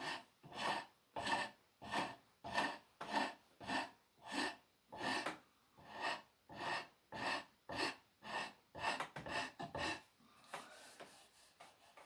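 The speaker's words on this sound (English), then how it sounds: "using your draw knife as a scraper" A draw knife used as a scraper on wood while making a chair gives a steady series of rhythmic rasping strokes, about one per second at first and then quicker and lighter toward the end, close and fairly quiet.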